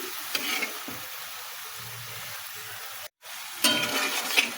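Egg curry masala sizzles in a pan while being stirred, a steady frying hiss with scraping strokes that briefly cuts out and then returns louder; no one speaks.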